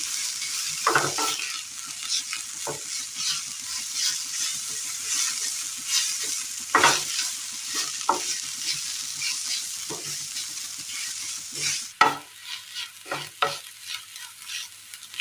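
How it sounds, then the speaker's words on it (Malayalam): Food fries and sizzles in a pan as a spoon stirs it all together, a constant hiss punctuated by scattered scrapes and knocks, with a sharp clank near the twelve-second mark, close up and voiceless. "മൊത്തത്തിലൊന്ന് ഇളക്കിയെടുക്കാം"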